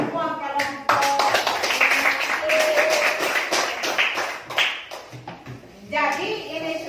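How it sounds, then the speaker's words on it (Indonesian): Students in a classroom applaud all the groups with sustained, lively clapping close by, mixed with children's chatter and a brief lull before the clapping picks up again. "Tepuk tangan untuk semua kelompok."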